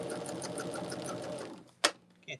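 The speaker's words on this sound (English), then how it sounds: "we're just going to stitch these two rows together" A sewing machine stitches two rows of a Shoo Fly quilt block together, a close, rapid, steady whir of needle strokes that stops, followed by two short clicks.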